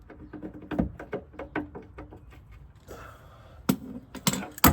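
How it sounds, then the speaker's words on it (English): A torque wrench tightening a bolt on a Porsche 997.1 Turbo gives a quick series of close, sharp metallic ratchet clicks, followed by a pause and a few louder clanks. "Got my torque wrench already set up."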